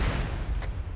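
A bomb explosion in the military video game ARMA 3 rumbles on with loud, deep, continuous thunder that holds steady throughout.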